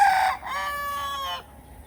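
A farmyard chicken, likely a rooster, crows once loudly and close by, a sustained harmonic call that follows a brief cluck, then fades into quiet barnyard ambience.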